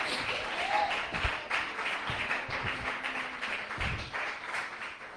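A church congregation breaks into sustained applause, dense clapping filling the room at a steady level for several seconds, with a few scattered voices and shouts mixed in.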